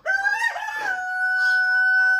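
A broody pet parrot that has just laid eggs lets out a loud, close, harsh drawn-out call that holds a shrill tone for about two seconds.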